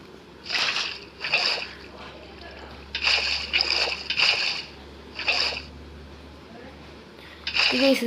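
Water placed from a bucket in Minecraft, heard as about six short splashy bursts in an irregular sequence over a steady low hum.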